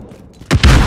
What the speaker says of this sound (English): My rocket launcher.